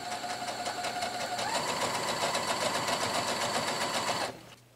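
A sewing machine stitching quilt fabric runs at a fast, steady mechanical rattle, speeds up slightly partway through, then stops abruptly near the end.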